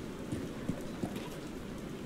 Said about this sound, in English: Oh man, it's raining here.